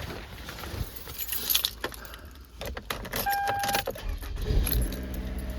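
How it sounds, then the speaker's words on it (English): Keys jangle in a car as it is started to run after a jump-start from a donor vehicle, with brief clicks and a steady engine-like rumble building near the end. "You're gonna go in, start the car."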